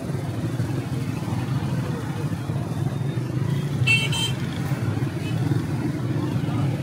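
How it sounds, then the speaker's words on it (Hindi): Gridlocked cars and motorbikes idle in a crowded Sialkot bazaar, a constant close engine rumble filling the street, with a brief horn toot cutting through partway. "पीछे भी ट्रैफिक बन गई है काफ़ी ज़्यादा, लोग सारे फंसे हुए हैं।"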